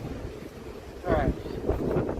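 Gusts of wind rush past the microphone outdoors while out hunting for flint and limestone, a rough buffeting roar that rises and falls; a voice speaks briefly over it.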